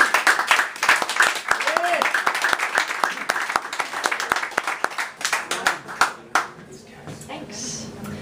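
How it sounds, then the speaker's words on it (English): An audience at a spoken-word poetry night claps for a poet, with sharp individual claps and an emcee's voice mixed in. The applause thins out and dies away toward the end, leaving a quieter, sparser room. "Clap it up for Liz."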